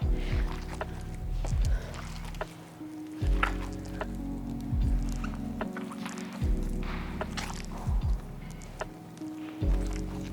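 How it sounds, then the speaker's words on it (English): Cheese bread dough for Brazilian pão de queijo being kneaded by both hands after eggs are added, giving close, wet squishing and slapping sounds in repeated rhythmic pushes with a low background hum. "Keep on kneading the dough for like a couple minutes."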